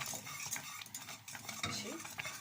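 Rice pudding being stirred in a pot, a spoon scraping and swishing through the thick mixture in quick, uneven strokes, close and fairly loud, with a soft bubbling sizzle beneath and no speech.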